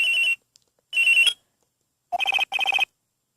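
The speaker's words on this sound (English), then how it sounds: "I received a call on my cell phone." A cell phone rings in the video game Ace Attorney Trials and Tribulations. Two long electronic trill bursts are followed by two quicker pulsing bursts, loud and clean against silence.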